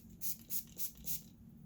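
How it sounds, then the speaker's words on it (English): A spray bottle mists hair product onto curly hair in four quick, evenly spaced hissing bursts, close and fairly soft. "Saturate it with the spray."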